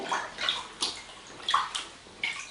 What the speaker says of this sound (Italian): Mentre la soda si scioglie, immergo il cotone